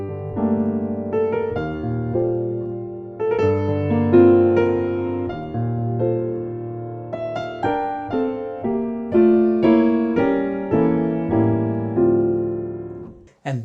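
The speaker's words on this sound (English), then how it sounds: "the melody starting at C is like this" A piano plays a slow descending melody starting at C, single notes and chords struck one after another with each ringing out and decaying, alone with no voice.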